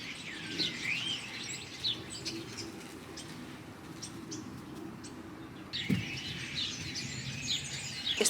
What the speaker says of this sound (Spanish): ¡Ay, mira los pajaritos!